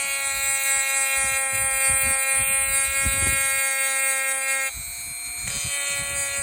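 Dremel rotary tool stippling the frame of an SDI FTH 212 striker-fired pistol, a steady high whine with rising and falling pitch and bursty scratching contact, briefly dropping in speed near the end.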